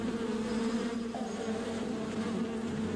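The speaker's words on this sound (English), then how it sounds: "It involved hiding a colony of stinging bees in soldier-like dummies" A colony of stinging bees drones in a dense, continuous buzz that holds steady throughout, fairly close and unbroken, with no voices.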